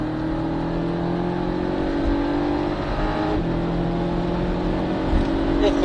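Porsche 718 Cayman S flat-six engine at full throttle on the Trappes circuit during a driving course, a steady loud drone rising in pitch as it accelerates, with an instructor's voice briefly under it.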